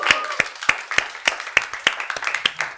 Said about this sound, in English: Clap, everyone.